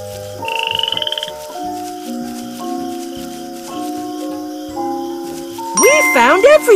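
A cartoonish northern green frog croak rises over a tinkling game melody of steady tones in an Arthur kids' maze game, then a burst of bright chimes and warbling effects closes it out.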